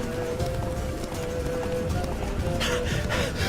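Roach, Geralt's horse in The Witcher 3 video game, gallops in a steady, rapid clip-clop of hooves that stays close and loud throughout, with faint voices and game ambience underneath.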